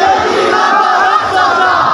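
Dense political rally crowd in Balakot, Mansehra, chanting slogans in unison at a PTI convention, a loud continuous roar of many voices with a rhythmic shouted cadence throughout.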